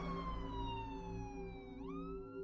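An ambulance siren wails loud and close over a low engine rumble, its tone dipping and then rising again within a couple of seconds.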